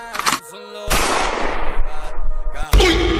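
A loud gunshot effect from a magic broom turned into a gun in a comedy skit, bursting in hard after a tonal tone and followed by a sustained rumbling crash, then another sharp blast near the end.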